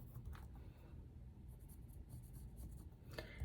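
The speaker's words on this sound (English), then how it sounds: "Then I'm going to draw a line with my pencil." A pencil draws a straight line on paper for scrapbooking, a soft, continuous scratchy rubbing stroke that is quiet and close, with no talking.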